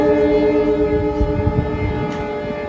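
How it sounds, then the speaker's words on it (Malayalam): A diesel locomotive sounds its horn on the Bandra–Jaisalmer Superfast Express in Rajasthan. It is a loud, close, sustained multi-tone chord over the rumble and clatter of the moving train, with no talking. "നല്ല രസമുണ്ട് ഡീസലിലെ ഹോൺ കേൾക്കാൻ, ഒരു പ്രത്യേക ഹോണല്ലേ"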